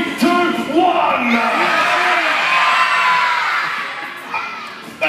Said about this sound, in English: When I get down to 1, I want you all to yell out your countries nice and loud.